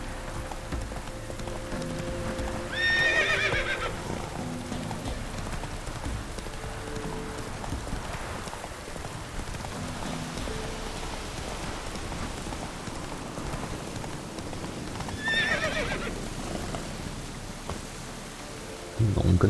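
A horse is ridden through rain in The Witcher 3: Wild Hunt. Hoofbeats sound under a steady patter of rainfall, with brief voice snippets and ambient game sound layered over them.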